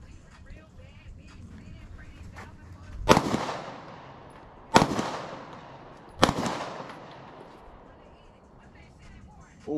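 Three loud AK-47 rifle shots crack out at a shooting range, spaced a second or two apart, each with a ringing decay, while people talk around them.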